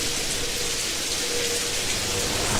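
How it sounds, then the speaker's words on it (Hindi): Steady rain falls outside, an even, continuous wash of drops at moderate level with no voices over it. "बाहर बारिश शुरू हो गई थी।"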